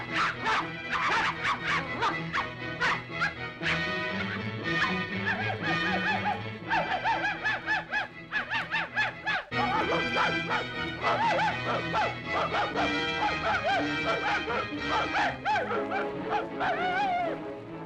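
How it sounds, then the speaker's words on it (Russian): Several dogs bark and yip in quick repeated bursts over background music, some barks sounding playful and high. "Лайтесь, как собака."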